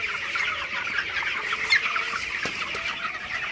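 A flock of 21-day-old broiler chickens clucks and chatters steadily at night, with a dense, continuous murmur of overlapping calls close by and no one speaking.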